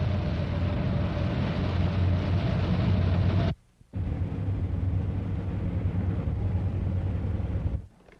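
Steady, loud road and engine rumble inside a 1964 Pontiac Bonneville at speed. It runs unbroken apart from a short drop to near silence partway through, with no talking.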